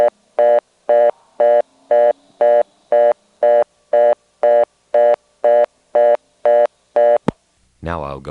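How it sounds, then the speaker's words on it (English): A blocked level on a step-by-step first selector at a 1977 Carolina Telephone exchange in Windsor, North Carolina returns a loud reorder tone, a steady series of about fourteen evenly spaced beeps, followed by a sharp click. "And here's a blocked level on the first selector. The way it goes into the reorder is kind of unusual."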